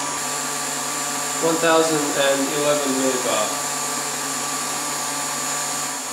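An electric vacuum pump runs steadily for a carbon fiber resin infusion, a constant mid-loud hum and whine throughout while someone speaks briefly over it.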